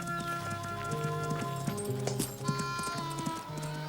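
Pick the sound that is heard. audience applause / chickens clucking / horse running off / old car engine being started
horse running off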